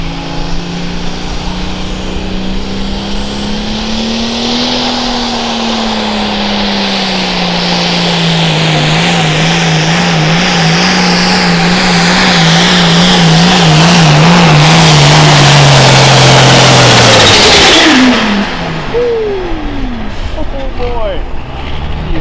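A boosted International pulling tractor's engine roars loudly and steadily for nearly twenty seconds at a hot farm tractor pull in Cuba City, Wisconsin, pitch climbing and wavering under strain, then abruptly cuts off, with an announcer talking over it.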